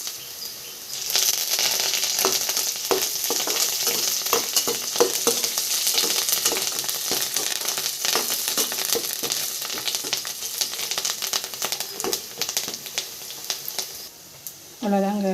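Dried red chillies and curry leaves frying in hot oil, a close, crackling sizzle with dense sharp pops and spits throughout, steady in loudness, then a brief drop and a new clatter at the very end.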